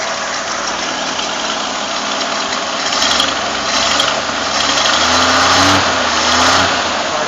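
A 1960 Ford Ranchero barn find with its engine running loud and close, idling roughly and then revved in a few rising swells before settling back.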